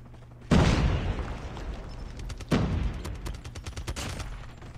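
MX9 submachine gun fired in a Season 6 first-person shooter video game, two loud sharp bursts of rapid automatic fire followed by scattered quicker shots, close and dominant with no talk.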